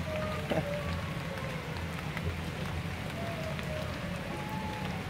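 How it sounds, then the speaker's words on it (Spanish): Steady rain falling in Singapore, a dense even hiss of drops on surfaces close around, continuous and moderately loud with no voices. "está lloviendo"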